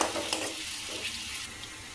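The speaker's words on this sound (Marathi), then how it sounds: "कांदा टाकून घेऊया कांदा छान फ्राय करून घ्यायचा आहे" Onion frying in a pan, a steady soft sizzle with faint stirring scrapes running evenly throughout, close and moderately quiet with no talking.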